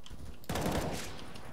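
Counter-Strike: Global Offensive gunfire, a sudden loud burst of rapid shots that starts after a short quiet moment and quickly trails off.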